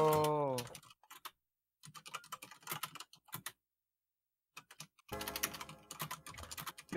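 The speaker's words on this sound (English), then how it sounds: "You love this sound of typing." Computer keyboard typing during a Pokémon Black gaming session comes in scattered bursts of quick clicks with short silent gaps, after a brief voice at the start.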